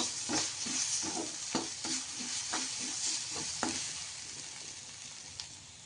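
Crushed green chillies roast in a pan while being stirred continuously, a soft sizzle under a run of rhythmic scraping taps that thin out in the second half.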